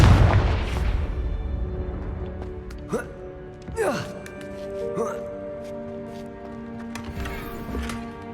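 Fiery Confringo spell blasts from the Hogwarts Legacy video game, with several short booming bursts spaced a second or so apart over a low ambient game soundscape.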